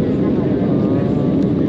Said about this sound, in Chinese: 现在飞机正在里海上空飞行